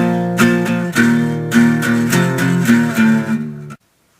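Electric guitar plays the chorus riff of a song, barred power chords struck in a steady rhythmic pattern, clear and close, ending abruptly into silence.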